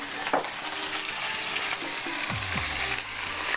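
Chicken pieces for malai murgh fry in a pan with a continuous close sizzle, joined by faint mechanical creaks and a couple of low falling squeaks toward the end.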